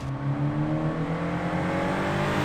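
A 2013 Scion FR-S tuned on E85 with an MXP Comp RS exhaust, revving with a steady droning engine tone that holds and slowly rises, moderately loud with no talk.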